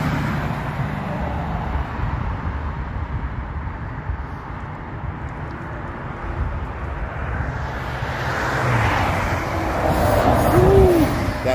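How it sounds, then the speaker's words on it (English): A bus passes on a city street, a broad rushing whoosh of engine and air that builds toward the end. A faint whistle-like tone sits near the close over steady traffic rumble. "that bus really kicked up some air"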